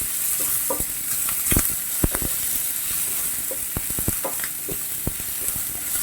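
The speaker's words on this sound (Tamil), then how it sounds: "பச்சை மிளகாய், அதோடு சேர்த்து வெங்காயம் தெறிக்க ஆரம்பிச்சிருது." Onions frying in hot oil with curry leaves and green chillies give a continuous close sizzle, broken by scattered sharp pops and crackles and a few stirring scrapes. No one speaks.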